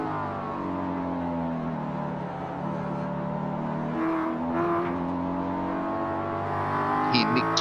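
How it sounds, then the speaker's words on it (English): A Ford Mustang race car engine in iRacing drones at high revs, its pitch wavering as the throttle is feathered on and off, with brief tyre squeals and a sharp whine near the end. "the Mustang certainly sounds probably one of the best sounding cars on iRacing at the moment."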